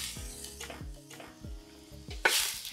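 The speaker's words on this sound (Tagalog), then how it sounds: "At haluin natin ng maigi." A spoon stirring chicken penne pasta with pepper, yellow powder and chicken powder in a pan: close, irregular scraping knocks and clinks against the pan over a light sizzle, with a louder scrape near the end, no talking.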